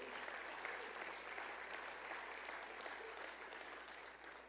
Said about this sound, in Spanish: Un aplauso al Señor por ello.